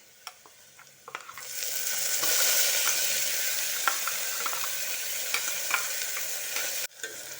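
Ground masala paste sizzles and fries in a pan with browned onions for a soya chunks pulao, with a steady close hiss and scattered spoon scrapes and stirring clinks.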